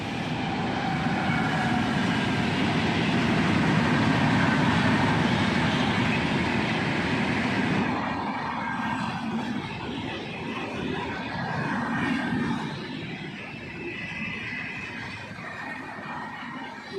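A train rolls past close by, a loud broadband rumble that stays dense for about eight seconds and then eases into a lower, rattling roar.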